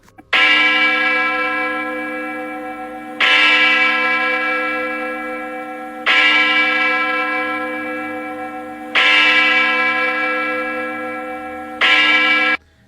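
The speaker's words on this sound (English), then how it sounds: "not just regular bells, huge ones, certain type of metal" Huge metal church bells toll slowly in five strong, evenly spaced strikes, each loud ringing tone with rich overtones slowly fading before the next lands.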